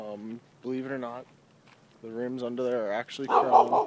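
A dog barks briefly from somewhere underneath, near a Jeep at home; a short burst near the end overlaps someone talking.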